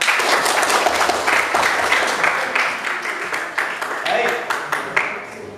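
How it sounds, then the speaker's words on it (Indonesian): Classroom applause during an Indonesian teacher-training session: dense, sustained clapping from a group, steady and fairly loud throughout with slight swells and fades. "Tepuk tangan."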